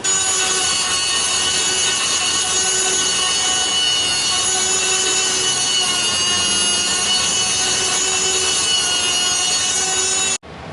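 A loud, continuous grinding whine runs steadily for about ten seconds, then cuts off abruptly, as a power tool trims a metal oil pan up close for an RB26 engine.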